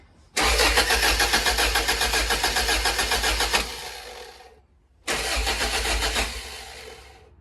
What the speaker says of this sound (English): So I've got the ECU unplugged, so I'm going to give it a crank now, see if it cranks